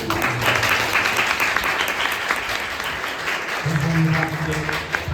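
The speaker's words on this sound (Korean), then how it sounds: "이제까지 수고해주신 작가님께 큰 박수로" An audience at a book launch talk for the author of 그러니까 서로 사랑하라 applauds warmly, a thick, continuous wash of clapping lasting several seconds while a voice speaks over it.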